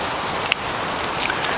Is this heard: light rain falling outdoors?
yes